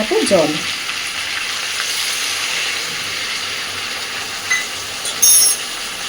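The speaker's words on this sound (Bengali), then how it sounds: "আলু ফুলকপি মশলার সাথে ভালোভাবে মিশিয়ে নিয়েছি" Potato and cauliflower fry with spices in a pan, giving a steady sizzling hiss with a few scraping knocks near the start and a brief clank toward the end, and no speech.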